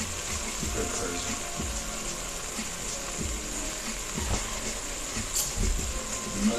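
Running water from a kitchen tap pours loudly and steadily while egg roll soup with pork is cooked, with intermittent clunks and a voice now and then over it.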